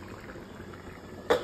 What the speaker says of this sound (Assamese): দালিটো এতিয়া ধুনীয়াকৈ বুৰবুৰণি আহিছে উতলিছে